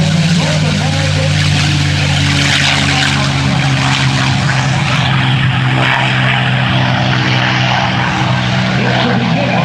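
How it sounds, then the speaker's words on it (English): North American propeller aircraft at an airshow roars steadily as it takes off, with a loud, continuous droning engine and propeller hum that persists throughout, while an announcer talks over it. "also taking off right now in their 25th year of operation from Stallion 51 over near Orlando, Lee Lauderback, in the North American"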